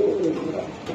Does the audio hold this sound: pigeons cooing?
yes